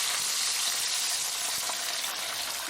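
Water poured into a hot pan of fried scallion, garlic and scallion oil in a home kitchen, giving a steady, close hiss of sizzling and bubbling liquid that holds for nearly three seconds without talking.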